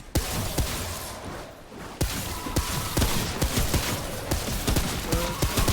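Pistol gunfire in the video game Remnant from the Ashes, a dense run of sharp repeated shots and impacts over busy game noise.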